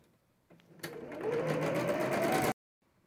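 A sewing machine stitches the fabric fin of a little fish-shaped pencil holder, a steady close whirring run of about two seconds that starts and stops abruptly.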